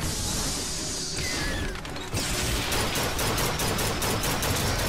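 Gunfire in BioShock Infinite, a dense roar of rapid shots and crashes, broken by a brief lull, then resuming with distinct repeated bursts, loud and continuous throughout without talking.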